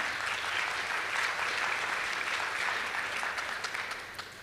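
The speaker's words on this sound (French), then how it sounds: "Il faut attendre que les gens aient parlé pour applaudir." Audience applause fills a conference hall at a savings and taxation forum, a steady dense clatter of many hands that holds for several seconds and then starts to thin toward the end.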